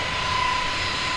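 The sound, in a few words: A320neo jet engines at takeoff in video game Microsoft Flight Simulator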